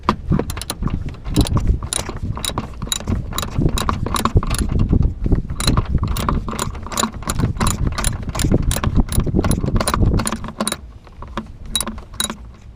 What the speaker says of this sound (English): So it's a 10mm and it needs a fair amount of extension.